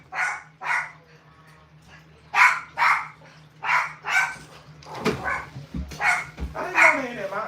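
Lily the dog barks again and again in a run of loud, sharp barks close by, with a few brief whimpers mixed in and a person talking between them in a home kitchen.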